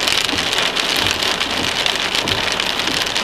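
Heavy rain pours steadily during a strong thunderstorm near Watonga, Oklahoma, in April, a dense, loud, continuous hiss of drops on surfaces with faint low rumbling beneath.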